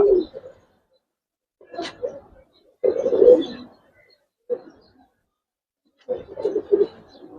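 A silver pair of pigeons, hen and cock, coo in short, close, throaty bursts separated by silent pauses, one bird answering the other.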